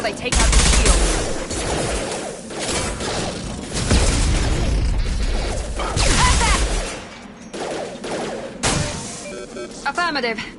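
Rapid gunfire bursts in the shooter game Mass Effect 2, loud and repeated, mixed with impacts and whooshes, while in-game voices talk over the fighting.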